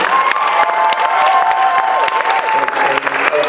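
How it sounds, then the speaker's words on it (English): A crowd at a spoken word poetry showcase applauds and cheers, with loud mixed clapping and whoops filling a few seconds, some voices calling out over the clapping. "Another round of applause for Kevin."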